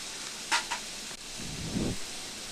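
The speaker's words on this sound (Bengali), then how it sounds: "মশলাটা ভালো করে কষে নেব" Turmeric and other ground spices sautéing in oil in a pan for a Bengali egg, potato and papaya curry: a soft, low sizzle with a couple of sharp scrape clicks from stirring, fairly quiet and close.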